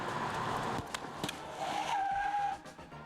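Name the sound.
car skidding, brand new car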